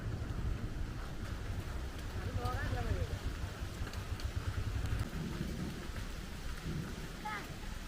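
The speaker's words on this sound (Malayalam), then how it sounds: "ഈ ഭാഗത്തൊക്കെ നല്ല മഴ പെയ്യുന്നുണ്ട്." Steady rain falls outdoors in a windy spot, a continuous broadband hiss with low rumbling underneath, while people talk intermittently over it.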